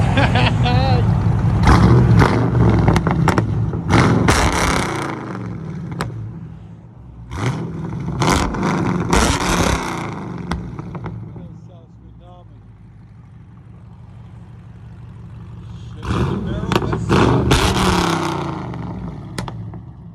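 An engine fitted with long tube headers revs hard in loud, rumbling bursts, dropping to a quieter idle in between, with excited voices talking over it.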